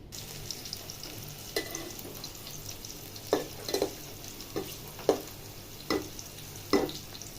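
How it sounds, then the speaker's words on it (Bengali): Chopped onion, garlic and four dried red chillies fry in oil, a steady low sizzle punctuated by about six sharp spatula scrapes against the pan, evenly spaced in the second half. "আমি এখানে পেঁয়াজ কুচি, রসুন কুচি এবং 4টা শুকনো মরিচ নিয়েছি। এগুলো এবার তেলে ভেজে নেব।"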